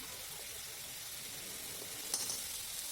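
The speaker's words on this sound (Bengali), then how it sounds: "এবার আমি মশলাটাকে ভালো করে কিন্তু কষিয়ে নেব" Masala with green chilies sizzling gently in a pan for a Bengali fish curry, a steady soft frying hiss throughout with a brief clatter near the end.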